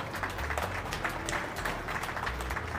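Applause at an Ambedkar Jayanti celebration held in the LIC Chandigarh division, a dense crowd clapping steadily and moderately loud with a low hum underneath.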